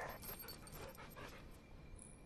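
A dog whimpers and pants faintly in a comedy film scene, soft, broken whines over a quiet background.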